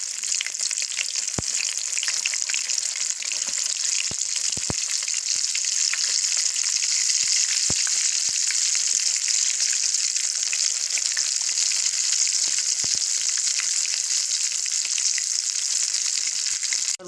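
Stuffed capsicum, shimla mirch, fries in hot oil with a dense, even, bright sizzle that carries on for the whole stretch, marked by a few sharp taps as the pieces are turned.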